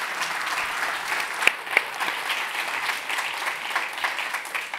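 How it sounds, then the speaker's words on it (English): Audience at a design symposium claps in a steady, moderately loud round of applause, with a couple of sharper individual claps standing out and faint murmuring underneath. "a big round of applause"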